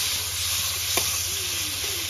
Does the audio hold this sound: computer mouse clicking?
no